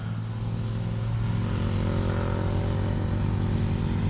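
A Freewing F-16 70mm EDF RC jet flies past as its throttle comes up, making a steady, loud ducted-fan roar with a faint high whine running through it. The sound swells slightly over the four seconds and no voices are heard.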